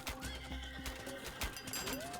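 Horses neigh and whinny loudly in the Age of Mythology strategy game, several overlapping calls with clip-clop hooves and battle clatter from a mounted archer clash.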